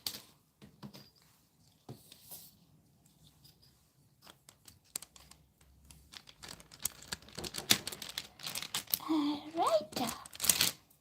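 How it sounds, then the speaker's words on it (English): A blade cuts a stripe from a sheet of polymer clay, making quiet taps and soft clicks that are sparse at first and then thicken into busier, louder handling sounds near the close, with a brief vocal sound late on. "So let's cut another one using this as a measurement. I'm gonna cut another stripe."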